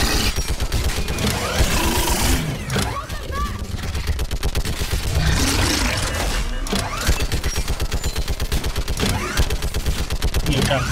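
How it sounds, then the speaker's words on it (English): Sustained rapid gunfire from squadmates in the sci-fi shooter Mass Effect 3, dense rattling bursts continuing nearly without pause, loud and close throughout with battle noise layered underneath. "It'd be great if y'all started shooting too."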